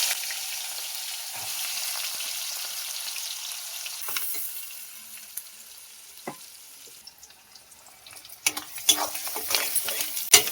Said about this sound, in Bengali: বন্ধুরা ওই তেলের মধ্যে আমি পেঁয়াজ কুচি দিয়ে দেবো।